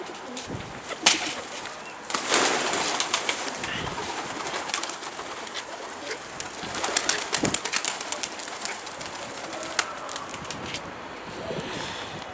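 Pigeons coo and flutter outdoors, with bursts of wing flapping and occasional rustling against a breezy background.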